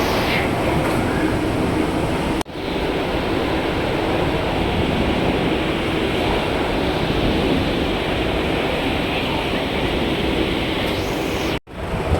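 Continuous loud rumble and rattle of a train running along the rails, steady throughout with two brief dropouts.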